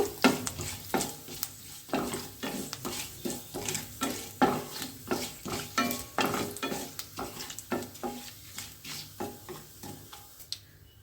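Dry red chillies and spices sizzle and crackle in hot oil for tempering, with a spoon repeatedly stirring and scraping the pan in a steady rhythm.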